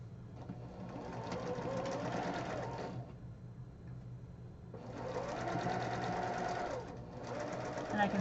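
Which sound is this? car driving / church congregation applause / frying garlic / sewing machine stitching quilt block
sewing machine stitching quilt block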